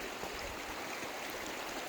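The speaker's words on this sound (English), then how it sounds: "And now we're coming on the rapids again." River rapids along a canyon hike in the Narrows rush in a steady, dense broadband roar, close and continuous with no pauses and no talking.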